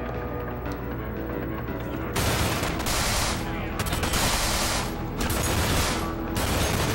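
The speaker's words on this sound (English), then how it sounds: "Who else is shooting at me, and why?" Heavy gunfire in the video game Manhunt 2, continuous bursts of rapid shots and loud automatic fire that swell in several waves, close and dominant throughout.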